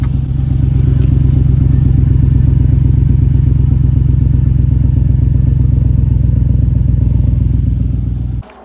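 Close, loud idle of a GMC Yukon engine with a blown-open muffler, a deep, raspy, pulsing exhaust drone that holds steady throughout before cutting off abruptly at the end.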